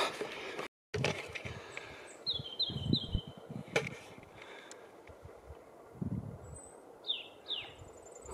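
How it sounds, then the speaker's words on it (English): Birds chirping and singing outdoors in short repeated phrases, some near and some farther off, over a rustling, breezy background. "I don't know whether you can hear the birds."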